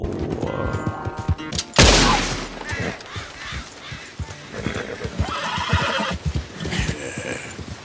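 A horse in the Red Dead Redemption 2 game whinnies loudly and close, with clip-clopping hooves and shuffling movement continuing through the rest of the scene.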